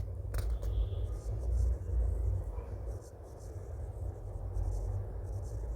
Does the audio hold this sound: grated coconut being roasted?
no